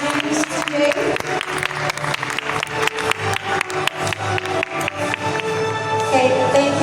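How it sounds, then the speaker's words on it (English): Applause from a seated audience at a formal signing ceremony for a business memorandum of understanding, a steady patter of many hands clapping with a voice faintly audible underneath. "Let us give a round of applause once again for witnessing the two MOU signings today."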